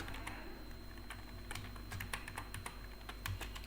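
Rapid, uneven keystrokes on a computer keyboard while someone types out React Native code, close and fairly quiet, with no talking.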